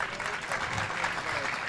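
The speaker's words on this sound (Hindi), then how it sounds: "तालियां बजा दो एक बार।" Steady crowd applause at a training camp event in Surat, a dense continuous clapping throughout with voices mixed in.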